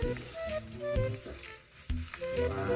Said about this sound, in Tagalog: Magigisa na tayo ng sibuyas bawang.